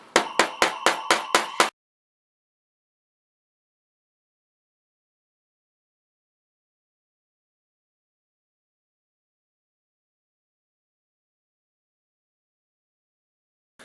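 A Chinese military shovel used as a hammer drives tacks into the handle of a German shovel: seven sharp, evenly spaced knocks in quick succession, then silence.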